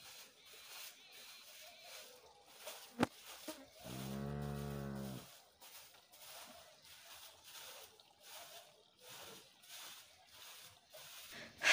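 A cow in a dairy barn lets out one long, loud, close moo partway through, surrounded by quieter barn shuffling, a sharp knock and someone talking before and after.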